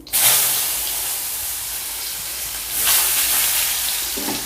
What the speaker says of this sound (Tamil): அந்த பூண்டோட அந்த வாசனை வந்து வரணும், அது வரைக்கும் நல்லா ஃப்ரை பண்ணிக்கலாம்.